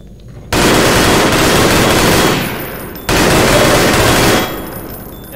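A beta weapon firing in the video game Half-Life 2: two long, loud automatic bursts of rapid shots, the first lasting about two seconds, the second a little shorter, each trailing off into a brief echo.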